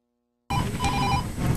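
A telephone rings after a short silence, a steady electronic ring with repeated pulses filling the rest of the moment, close and fairly loud with no talk over it.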